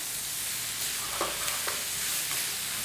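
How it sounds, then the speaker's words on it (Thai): Crab and spring onions being stir-fried in a pan, a steady loud sizzle of hot oil with a few soft scrapes of the spatula, close up and with no voices. "ต้นหอมนี่นะคะ แล้วก็ผัดให้นุ่มนิดหนึ่งนะคะ"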